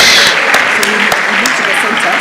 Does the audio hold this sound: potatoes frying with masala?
no